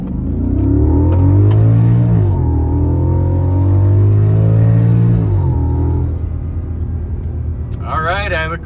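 An Audi S8 with a V10 engine, shifting somewhat erratically, accelerates hard from inside the cabin, its loud engine note climbing in rising sweeps through gear changes before settling, with a voice briefly heard at the end.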